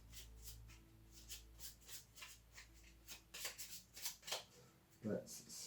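A deck of game cards for the board game Cthulhu: Death May Die being shuffled by hand, a run of soft riffling and sliding bursts at close range, with a voice speaking briefly near the end.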